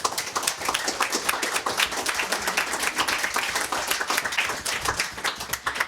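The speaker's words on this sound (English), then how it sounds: "Can you help me start by welcoming them with a big round of applause?" An audience claps to welcome speakers at a talk at Writers House, a steady patter of many hands with distinct individual claps, fairly light and even.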